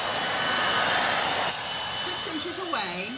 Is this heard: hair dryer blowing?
yes